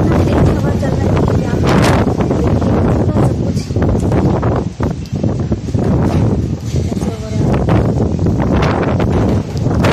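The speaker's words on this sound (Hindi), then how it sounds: "कितना तेज़ हवा चल रहा है" Strong, gusty wind during the first rain in Delhi roars and buffets the microphone in heavy, uneven surges, with brief lulls between the blasts.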